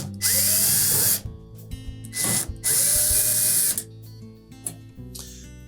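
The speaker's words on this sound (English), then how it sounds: "Now, next we'll remove the screws across the top." A power drill backs screws out across the top of a Samsung dryer's front panel during a door strike repair: three loud whirring bursts separated by short pauses, with small clicks of the bit and loose screws between them.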